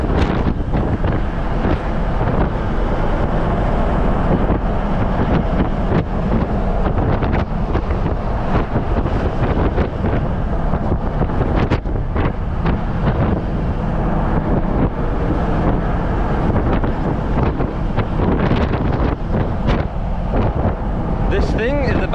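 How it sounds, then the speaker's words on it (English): Wind rushes loudly and steadily past a Hummer H1 as it drives off-road, a constant broadband roar with gusting swells and faint speech mixed in. "You can hear the wind."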